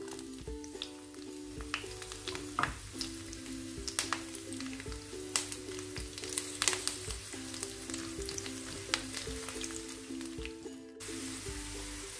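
Garlic and green chillies fry in hot oil for sarson ka saag, a continuous close sizzle with crackling pops and occasional stirring scrapes over a low hum.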